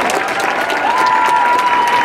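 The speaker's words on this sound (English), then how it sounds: "Give yourselves a round of applause." Crowd at an outdoor anti-Trump protest in Denver applauding and cheering, a steady wash of clapping with a thin whistle-like tone running through it.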